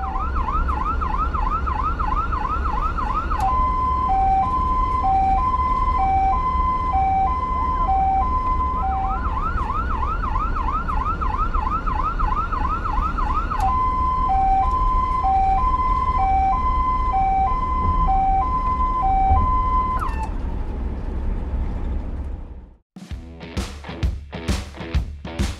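An ambulance siren wails steadily and loudly on the road, its rising-and-falling tone alternating with a held pattern, over a constant roar of traffic, before cutting off into brief sharp knocks near the end.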